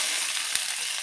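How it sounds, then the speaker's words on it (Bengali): Garlic fries in a pan with dried greens, a steady close hiss of sizzling oil throughout a brief moment. "রসুনটাকে ভালো করে আমি লাল লাল করে ভেজে নেব"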